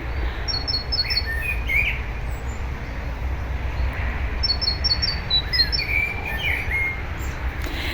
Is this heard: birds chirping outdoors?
yes